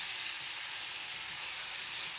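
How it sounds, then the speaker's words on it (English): Pasta bake ingredients for chicken pasta bake sizzle steadily in a pot while being stirred, a loud continuous hiss of frying with no talk. "Start stirring this up."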